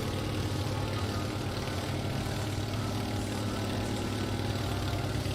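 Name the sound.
airplane engine idling in a flight simulator video game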